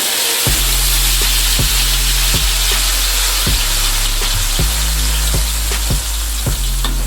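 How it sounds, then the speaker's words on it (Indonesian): A ground spice paste for sambal teri kacang sizzles loudly and steadily in hot oil, with regular scraping stirs cutting through the frying hiss. "kita tumis bahan yang sudah dihaluskan tadi"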